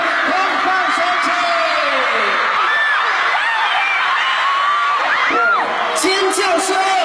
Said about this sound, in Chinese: 尖叫声